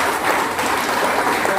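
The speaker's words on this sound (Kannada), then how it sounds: "ಜೋರಾದ ಚಪ್ಪಾಳೆ" Loud, dense applause from an audience at a business leaders' meeting in Hubli, sustained clapping with no pause.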